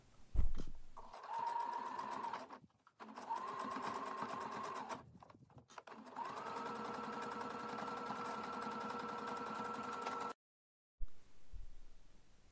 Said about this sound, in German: Die Teile aufeinander nähen,